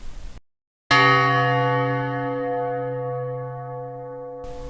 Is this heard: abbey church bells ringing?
yes